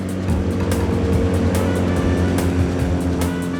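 A Hoverwing 19RW winged hovercraft engine drones steadily, a loud continuous motor hum with rushing air, close and unbroken throughout.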